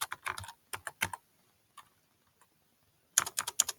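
Typing on a computer keyboard comes in close, quick bursts of clicking keystrokes, with a pause of near silence in the middle before another rapid flurry.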